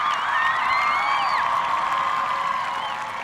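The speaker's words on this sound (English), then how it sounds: "let's give a nice round of applause to Ms. Tiffany Clark and Mr." Sustained crowd applause with cheering and whoops at a high school graduation ceremony, a broad, even wash of clapping that fills the whole stretch, with shrill whistle-like cries rising above it.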